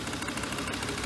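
The engine of an abandoned Volvo 850 with 69k original miles, started for the first time in 12 years, runs with a steady rapid rhythmic idle and slight knocking, close and continuous.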